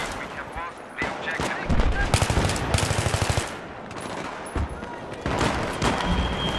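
Rapid automatic gunfire rattles in bursts during a Battlefield conquest round on Grand Bazaar, loud and close with scattered distant shots and booms, while players talk over it.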